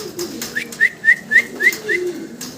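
A silver-coloured fancy pigeon coos close by in a rhythmic series of about six soft, rolling calls over a low background murmur.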